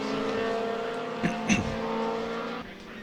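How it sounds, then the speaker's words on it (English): Historic Formula Junior race cars at Donington Park drone past with a steady engine note, and brief louder bursts mark cars sweeping through, while a commentator talks over the top. "as we see Ray Mallock run through the shot in the lead."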